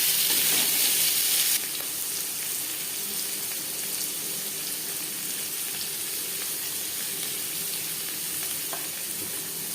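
Paneer frying in refined oil in a pan, a steady loud hiss and sizzle that runs throughout, with a brighter burst at the start that settles after a second or so.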